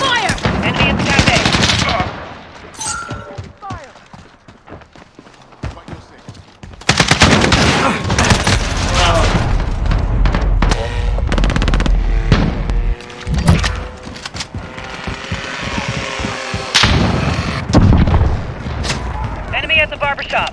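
Rapid gunfire bursts and booms from a Black Ops 6 beta multiplayer match, loud and dense in several long volleys, with players calling out over it.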